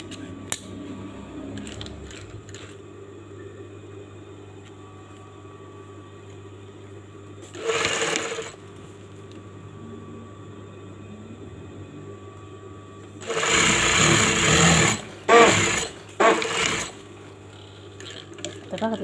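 Sewing machine stitching the sleeves of a gandoura, a short whirring run of stitching partway through, then a longer burst with a couple of quick follow-up runs, over a steady low hum.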